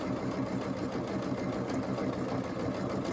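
A Pfaff sewing machine stitches through fabric and stabilizer at a slow, even pace, its fast rhythmic mechanical whir running close and steady with no voices over it.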